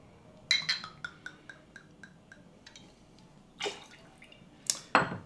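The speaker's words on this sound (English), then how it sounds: "Benedictine here, another half ounce pour." Half an ounce of Benedictine liqueur pours into a cocktail glass, with a few light glassy clinks and drips first, then two short, close liquid pours near the end.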